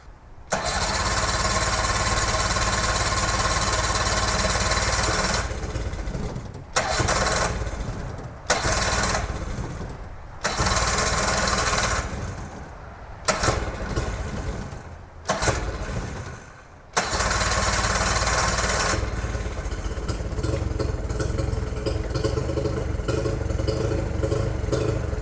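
A choked small engine cranks several times in loud, uneven bursts, then catches and keeps running with a steady, clattering idle.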